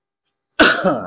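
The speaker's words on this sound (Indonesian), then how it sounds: "Batuk dikit." One sharp, close cough bursts out after a faint breath, with a throaty rasp trailing off.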